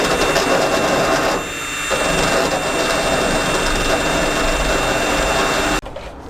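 A small rotary grinder wheel cutting off protruding screw ends while shelving is fitted in a camping trailer, giving a loud, continuous high-pitched whine with a brief dip midway before cutting off sharply.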